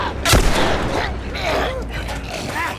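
Gunfire in The Last of Us sounds as a sharp, loud shot near the start, followed by rumbling, clattery game noise and a few fainter impacts, with no voices over it.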